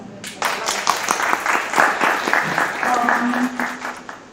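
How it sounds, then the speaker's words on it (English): Audience applause at a faculty development program session on polytechnic accreditation, a steady wash of clapping from a crowd that runs throughout, with some voices and a faint tone mixed in beneath it. "So please welcome him for this session with big claps."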